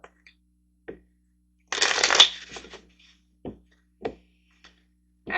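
Tarot cards are shuffled in one dense riffling burst lasting about half a second, then a few soft, separate taps and flicks as the deck is handled, close and quiet with no voices.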